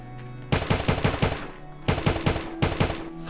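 AK rifle fire in a hardcore Minecraft zombie apocalypse game: two loud bursts of rapid automatic shots in steady rhythm, separated by a brief pause, with no voices over them.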